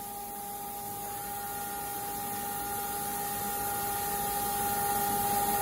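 Kitamura Mycenter 3XG CNC machining center from 2014 running a tool change in a production facility, heard as a steady mechanical whine with sustained tonal hum that slowly grows louder, without voices.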